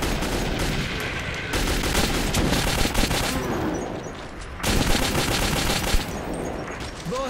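Dense, sustained rapid gunfire from the video game Metro 2033 blasts in long bursts, loud and close, with a short lull midway before the shooting resumes.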